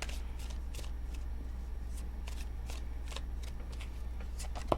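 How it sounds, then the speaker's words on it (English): Tarot cards being shuffled by hand, a steady run of soft papery riffles and flicks with a faint low hum underneath and a small tap at the end. "2 more shuffles."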